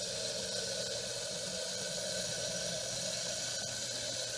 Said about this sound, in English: You will have to prime this catch pot, fill it up with water